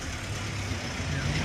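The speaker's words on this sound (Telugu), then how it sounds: "బయలుదేరేసింది మా బండి అయితే, టాటా సుమో." Tata Sumo jeep pulling away on a Darjeeling road: a brief low engine rumble, close and steady, with a faint rising tone.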